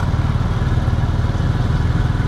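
A motorcycle with a sidecar being ridden on the road from Lahore toward Multan gives a loud, close, steady engine drone with a rapid pulsing throb and no pauses.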